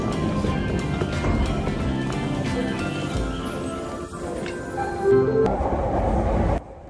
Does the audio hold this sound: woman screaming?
no